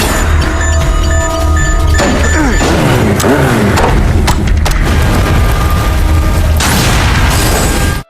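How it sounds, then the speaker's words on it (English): A grenade hurled through a window explodes in a film scene, with loud booms, crashing debris and thuds over a dense, continuous cinematic mix, ending abruptly. "They're about to celebrate when a grenade is hurled through their window."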